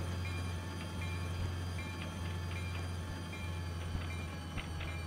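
A Roblox freight train on a rail route slows under emergency braking, with a steady low rumble of rolling cars, brief high wheel squeals and occasional clunks, continuous and fairly close with no talking.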